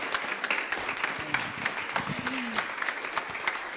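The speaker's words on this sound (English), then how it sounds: "So we thank you, and we'll applaud you now." Church congregation applauding the pastor, a dense patter of many hands clapping at moderate distance, steady throughout with a few brief tonal sounds and murmured voices mixed in.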